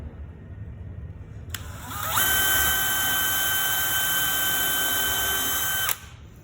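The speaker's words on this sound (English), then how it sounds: "You're gonna take my drill." A power drill drives a screw into planter wood, whining up in a brief burst and then holding a steady, high-pitched spin for about four seconds before stopping abruptly, close and clear.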